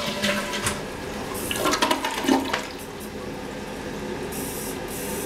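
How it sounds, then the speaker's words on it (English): A Kohler Cimarron elongated-bowl toilet with a touchless flush kit flushes. A loud rushing surge of water is followed by a steady hiss as the tank refills. "Just run your hand across here and flush."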